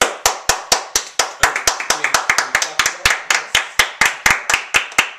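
Brisk hand clapping, roughly thirty sharp claps in about five seconds, loud and close, with an uneven rhythm that speeds into rapid bursts in the middle before settling back to a steady beat.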